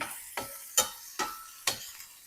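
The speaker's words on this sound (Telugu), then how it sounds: "హాఫ్ టీ స్పూను జీలకర్ర హాఫ్ టీ స్పూను పసుపు బాగా మంచి కలుపుకోవాలి" Cumin and turmeric are stirred in a hot pan for a Bommidi fish fry, with five evenly spaced scraping strokes over a light sizzle and no voices.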